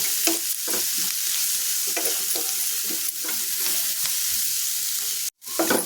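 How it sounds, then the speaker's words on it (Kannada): Cluster beans with tomato and onion frying in oil, a loud continuous close sizzle with rhythmic stirring scrapes throughout and a brief dropout near the end. "ಚಂದ ಎಣ್ಣೆದಾಗ ಎಲ್ಲ ಫ್ರೈ ಆಯಿತು ನೋಡಿರಿ"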